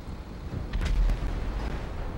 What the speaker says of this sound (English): Hey guys, what is blowing up? That's the third just explosion.